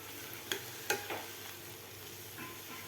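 Fenugreek leaves (methi bhaji) are stirred in a pan, two or three sharp scraping knocks from the spoon over a low, steady sizzle, close with no talk.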